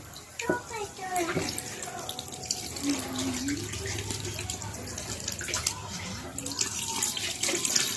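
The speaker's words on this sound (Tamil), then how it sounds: "நம்ம கலசின புளி தண்ணி வச்சுருக்கதை எல்லாத்தையும் நம்ம ஊற்றிடணும்" Tamarind water pouring and splashing steadily into a bowl, with a voice speaking over it and some clinks near the start.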